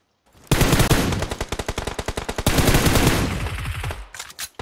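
Loud, close automatic gunfire in a competitive video game match, with long rapid rattling bursts that break into shorter volleys and stutter toward the end.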